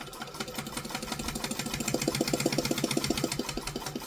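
A sewing machine runs a seam on a kangaroo sewing project, a fast, even train of mechanical stitch pulses that swells slightly louder midway, close and steady with no talking.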